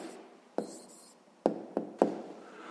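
A pen writes down an answer to a sixth-grade maths exercise: quiet scratching strokes broken by four sharp taps or knocks on the desk, close up and with nobody talking.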